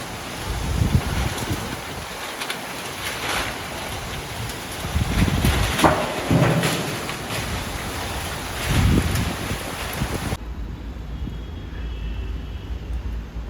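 Strong gusting wind buffeting a tin-sheet roof and lifting the sheets, with rising and falling blasts, low rumbles and rattling bursts before dropping suddenly to a quieter hiss, no talking.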